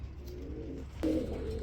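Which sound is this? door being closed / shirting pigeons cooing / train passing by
shirting pigeons cooing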